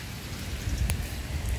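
Rain falls steadily on the grounds of Candelaria Beach Resort, a continuous close patter with a brief sharper splash midway, no voices over it.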